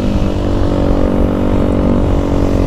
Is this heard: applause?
no